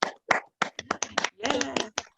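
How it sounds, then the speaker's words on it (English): Scattered hand claps from participants in an online public commission meeting, heard as uneven bursts of claps through separate microphones, some overlapping with short bits of talk. "everyone needs to unmute so we can hear everyone's clapping."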